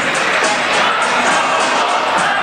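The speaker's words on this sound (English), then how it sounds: "Let's go Wolfpack chants." A large hockey crowd at PNC Arena chants "Let's go Wolfpack," a loud, dense, continuous roar with a steady rhythmic pulse of many voices, close and filling the space.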